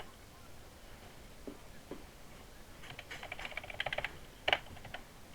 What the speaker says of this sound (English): I'm typing now.